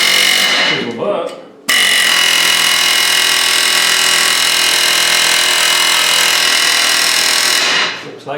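A chisel bar hammering at a rear brake drum that has been grooved with a disc cutter, producing a loud, continuous rattling power-tool clatter that begins abruptly after a brief quieter moment and stops near the end.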